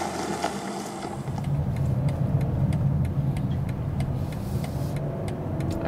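A 2019 BMW X5 G05 40i engine pulls hard under acceleration, a steady loud drone with road and tyre noise heard from inside the car, rising slightly after the first second and holding evenly.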